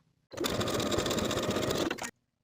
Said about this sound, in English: first folding it right sides together and sewing the side seam at 3/8 of an inch and pressing it open